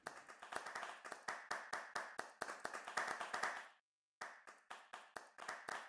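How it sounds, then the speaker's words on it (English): Audience applause follows a debate session on amending Malaysia's Whistleblowing Protection Act: a small group claps in sharp, fairly regular strokes, breaks off briefly, then resumes, fairly near and with no voices over it. "you all deserve a round of applause"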